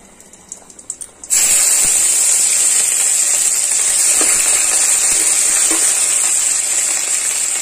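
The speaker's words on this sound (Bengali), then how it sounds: "আদা কুচিটাকে একটু সময় ভেজে" Chopped ginger dropped into hot oil with whole cumin, bay leaf and dried chilli for a chotpoti recipe, bursting into a loud, steady sizzling hiss after about a second of quieter clatter, close and continuous to the end.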